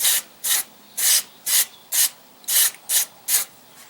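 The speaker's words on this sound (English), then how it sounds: "I'm going to give it a squirt down with this contact cleaner and protectant." Contact cleaner and protectant is sprayed onto a Kubota L4400 tractor's fusebox in eight short, evenly spaced hissing bursts, each lasting about a third of a second, loud and close with no talk.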